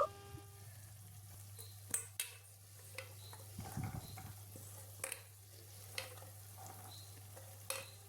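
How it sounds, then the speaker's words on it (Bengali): Potatoes fry in spice masala in a pan while being stirred, a quiet sizzle under a steady low hum, with occasional scrapes and clinks of the spoon and no speech. "এখন আমি ওই মশলা কষানোর মধ্যে আলুগুলো দিয়ে দিচ্ছি আলুগুলো দিয়ে খুব ভালো করে কষিয়ে নেব"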